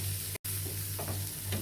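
Cowpeas frying with chilli powder and masala give a loud, close, steady sizzle with faint stirring scrapes, broken by a brief dropout near the start.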